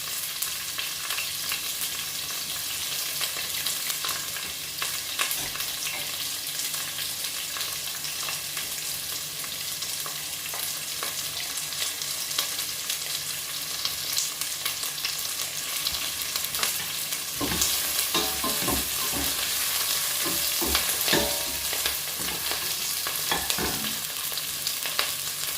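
Onion, thyme, bay leaf, peppercorns and garlic fry in a pot for shrimp bisque, a dense continuous sizzle with occasional stirring scrapes and clinks, steady and close, without talk.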